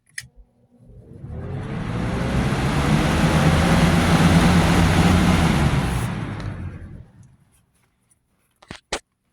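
A Lasko B20200 box fan on high speed spins up into a strong, broad rushing whoosh, holds steady for several seconds, then winds down, followed by a few clicks.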